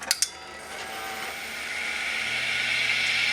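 Worn bearings in an old MFM hard drive spin up after a couple of sharp clicks, leaving a steady, slowly swelling metallic whine with a grinding hiss that grows louder toward the end.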